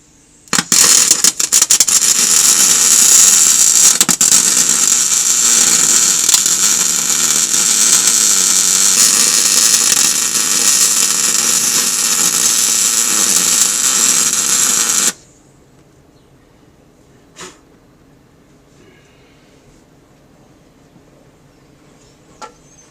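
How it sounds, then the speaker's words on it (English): Arc welding lays a bead onto a nut during a torque arm replacement on Hendrickson Haulmaxx 460 truck suspension, a loud steady crackling sizzle for about fifteen seconds that stops abruptly, followed by near silence with a few faint clicks. "So we're just gonna put a bead of weld on here"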